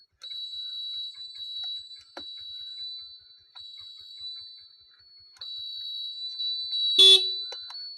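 A 2018 Honda Activa scooter's electric horn gives a steady high-pitched tone in several presses of varying length, some long and some short, close and fairly loud, ending in a sharper burst near the end.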